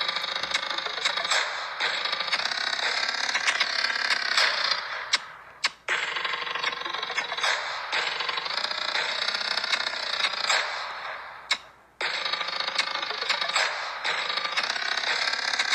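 Ethereal Island Wubbox from a video game playing its machine-like sound in slow mode: loud, grinding, creaking mechanical tones in long sustained sweeps, broken by two brief sharp drops, with no talking.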